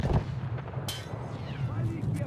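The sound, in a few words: grenade explosion in video game Escape from Tarkov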